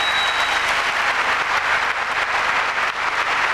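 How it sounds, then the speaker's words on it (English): A Wimbledon 1992 crowd rises in a standing ovation, dense sustained applause with thousands of hands clapping steadily and loudly throughout, no voices standing out. "Standing ovation."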